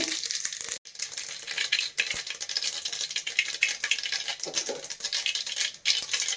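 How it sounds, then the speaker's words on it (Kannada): Mustard seeds splutter in hot oil as the tempering for a chickpea rasam, a dense, steady crackle and hiss that runs close and loud for several seconds with no voices. "ಈಗ ಎಣ್ಣೆ ಬಿಸಿ ಆಗಿದೆ ಸಾಸಿವೆ ಹಾಕೋತಾ ಇದ್ದೀನಿ"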